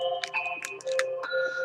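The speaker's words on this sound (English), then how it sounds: "Here goes my phone." A cell phone rings with a repeating electronic melody of bright tonal notes, fairly close and steady, with no talk over it.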